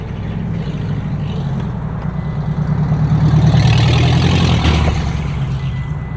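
A 2022 Hyundai Kona N engine and exhaust rumble low and steady, swelling slightly louder mid-way as it passes nearby, then easing back, with no talking.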